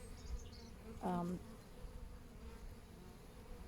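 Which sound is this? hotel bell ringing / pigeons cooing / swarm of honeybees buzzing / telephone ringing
swarm of honeybees buzzing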